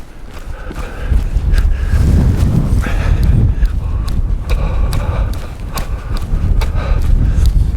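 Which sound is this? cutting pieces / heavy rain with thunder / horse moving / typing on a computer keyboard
horse moving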